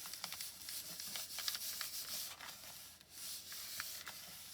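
Glitter card stock being rubbed and burnished down by hand, a steady close scratchy rubbing with short repeated strokes, faint and alone.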